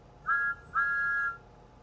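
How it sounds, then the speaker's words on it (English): Two steady toy engine whistle blasts, a short one then a longer one, clear and fairly close with a thin, pure tone. "blow my whistle"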